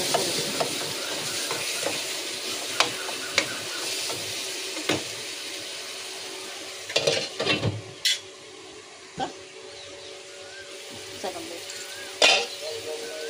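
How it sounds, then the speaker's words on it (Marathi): Cauliflower and peas curry with masala fries in a pan, a steady sizzle and hiss up close, broken by several sharp scrapes and clacks of stirring, with someone talking over it. "मसाला भाजला आहे, आता थोडासा पुन्हा भाजीत शिजेल।"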